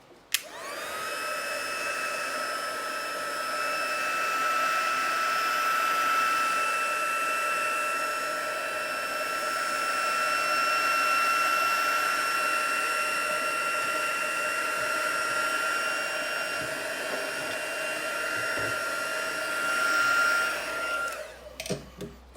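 A heat tool blows steadily to set paint in a craft project, a loud, close, continuous whirring whine with a high electric tone that runs almost unbroken before switching off near the end.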